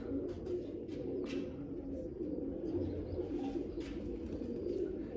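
Pigeons coo in a low, steady murmur that runs without a break, close by and fairly quiet, with faint chirps flickering above and no voices.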